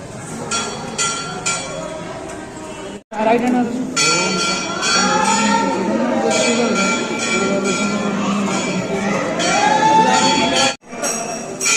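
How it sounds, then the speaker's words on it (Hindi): A large crowd at Chintaharan Mahadev temple forms a continuous loud din, with temple bells ringing and chiming throughout and people talking close by. "बहुत भीड़ हो चिंताहरण महादेव मंदिर"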